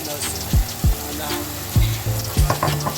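Spring onions tumble into a bubbling Nigerian cow skin (kpomo) stew, steady frying sizzle underneath a few low thuds and clatters of ingredients landing in the pot, close and moderately loud, no talking.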